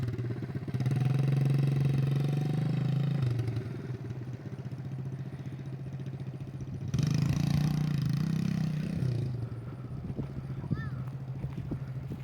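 A 50cc dirt bike engine runs steadily as a five-year-old rides it, its low drone rising in two louder surges of throttle before settling back, with voices talking over it.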